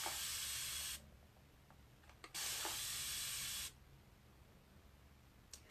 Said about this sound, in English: And you see how it continues to spray even when you let your hand go?